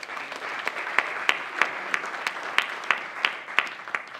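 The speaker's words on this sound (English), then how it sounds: "Another round of applause, please" Audience applause at the close of a conference talk, a steady patter of clapping punctuated by a few sharp, louder claps from someone close by, recurring at a fairly regular rhythm.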